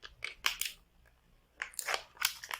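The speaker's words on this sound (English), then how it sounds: "I think we need some scissors here." Scissors snipping into a plastic bag, a few crisp crunchy cuts heard close in two short bursts with a pause between, quiet and without talk.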